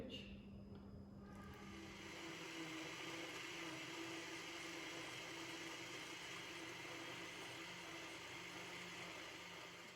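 A small kitchen blender whirs as it mixes the rest of the milk for a four-milk caramel pudding, a steady, loud motor drone running unbroken from start to finish.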